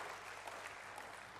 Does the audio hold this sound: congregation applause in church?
yes